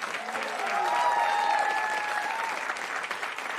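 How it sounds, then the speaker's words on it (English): A jazz club audience at Dizzy's Club applauds bassist Rufus Reid after a set, steady dense clapping that swells and holds, with faint whistles or cheers on top and no talking. "Special round of applause to Rufus Reid"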